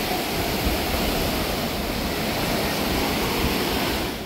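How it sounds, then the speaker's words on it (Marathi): Vibhooti Falls near Gokarna pours steadily, a dense, continuous roar of falling water close by, broad and unbroken throughout with no voices. "हा धबधबा आहे पूर्ण."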